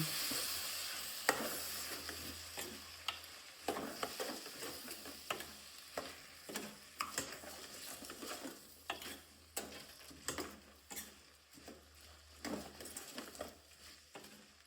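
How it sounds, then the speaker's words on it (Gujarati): Pulao rice being stirred in a pan, with a quiet, steady run of soft scrapes and light clicks from the utensil against the pan and a faint sizzle underneath. "આપણે મિક્સ કરી દેવાનું રહેશે"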